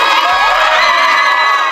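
A crowd cheering and whooping just after a court verdict, loud and close, a brief burst of excited shouts and screams.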